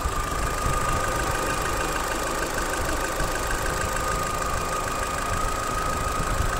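An Opel car engine idles steadily up close, a continuous even rumble with a faint high whine and no talking.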